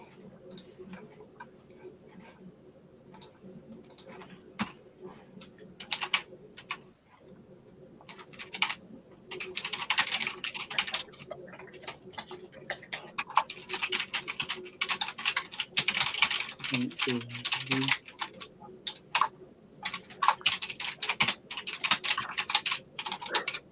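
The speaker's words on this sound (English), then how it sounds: "Who's the really noisy typer? Well, that'd be me." Noisy typing on a computer keyboard during a working session, with rapid, irregular clicking and clacking in dense bursts, fairly close but soft over quiet room tone, with a few faint murmurs.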